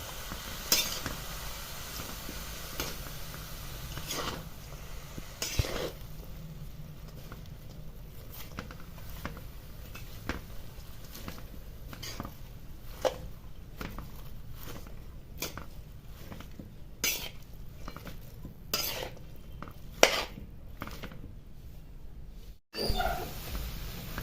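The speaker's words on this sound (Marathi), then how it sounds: "पूर्ण भाजी हलवून द्यायची आहे" A spoon scrapes and stirs cabbage in a pan in repeated strokes over a low, steady sizzle, with a brief pause near the end.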